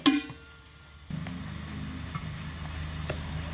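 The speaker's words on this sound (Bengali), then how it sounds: "এখানে আমি অনবরত নাড়াচাড়া করে আঁচটাকে মিডিয়ামে রেখে এইভাবে ডালটাকে শুকনো করে রস মেরে নিচ্ছি।" Leftover dal stirred and dried out in a pan over medium heat, opening with a short clatter, then a soft steady sizzle joined by a few faint spatula scrapes.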